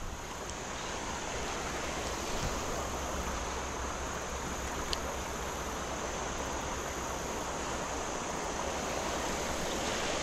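Steady, broad rushing of creek water spilling over a small waterfall, constant and fairly close, with no voices over it.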